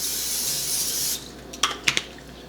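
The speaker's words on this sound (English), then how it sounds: "I'm gonna just spray the grill." Cooking spray hisses onto a grill in a sustained burst of about a second, close and fairly loud, followed by a few light clanks from the grill or can.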